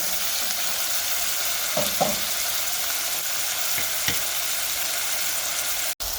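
Prawns for a curry fry in a pan with a steady close crackling sizzle, broken by a few scraping stirs and light knocks and a brief cut near the end, with no voices.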